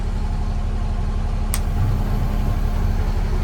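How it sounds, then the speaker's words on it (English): A Stewart & Stevenson water tender truck engine idles steadily with a low, continuous rumble, close and unchanging throughout, with one brief sharp click partway through. "We have the truck sitting at idle."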